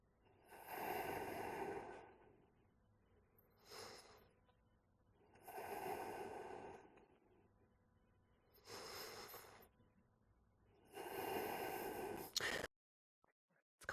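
Deep, slow breaths during a yoga hip-opening pose, five long inhale-exhale swells in a steady rhythm, close and breathy, with no talking.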